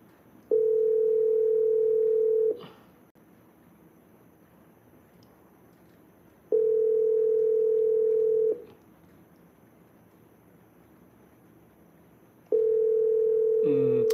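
A phone line on a call-in show gives out a steady electronic ringback tone in three even two-second bursts spaced about four seconds apart, loud and clean over a quiet background.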